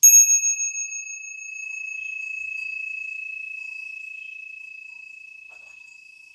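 A mindfulness bell is struck once, a sharp bright strike followed by a long pure ringing tone that slowly fades over several seconds in near silence.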